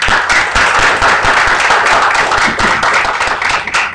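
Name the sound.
online audience applauding after a talk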